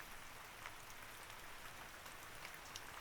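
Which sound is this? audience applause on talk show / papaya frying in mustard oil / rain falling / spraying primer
rain falling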